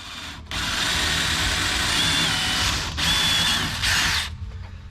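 A power drill spins a tap to cut threads in a part on a C8 Corvette drift car, running in a steady loud whine for about four seconds with a brief pause midway, then stopping.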